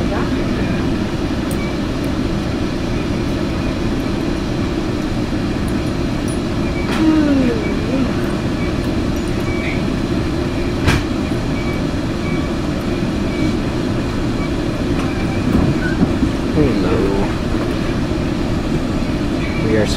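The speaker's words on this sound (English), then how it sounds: "We weren't going this slow with our other train." A steady low rumble of a slow-moving freight train rolling along rails near Belen, New Mexico, heard from aboard, continuous throughout with occasional faint squeals and clanks.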